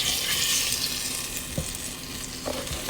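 Curry-seasoned chicken sizzles and browns in hot oil in a pan, a loud, close, steady crackle broken by a few soft knocks of stirring.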